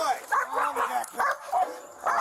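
A police dog at a water rescue during an arrest lets out a quick series of close, yelping barks and whines in short bursts.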